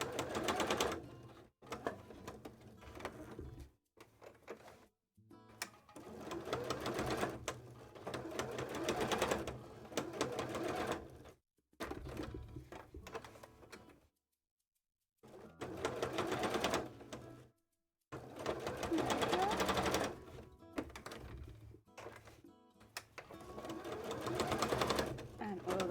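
A sewing machine stitches fabric in repeated runs lasting a few seconds each, a steady close mechanical whirr broken by short silent pauses, with someone talking faintly between runs.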